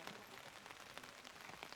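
Rain coming down on a golf course in the Pacific Northwest, a constant broadband wash of falling water with small irregular drop taps, even and unbroken.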